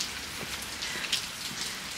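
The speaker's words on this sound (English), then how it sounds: "It's still raining." Steady rain falling outdoors at a horse yard, a soft continuous hiss with scattered droplet patters, moderately faint and without voices.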